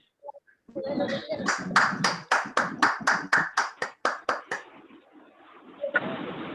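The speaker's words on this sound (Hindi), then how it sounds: "अनूप जी के लिए जोरदार तालियां" Audience applause at a webinar session, a burst of roughly a dozen sharp, evenly spaced claps, fairly close and loud, tapering off toward the end with a short noisy swell at the close.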